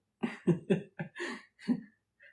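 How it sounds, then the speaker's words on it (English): A string of several short coughs in quick succession, close and fairly quiet, with brief pauses between bursts. "Put your hand on your mouth when you cough"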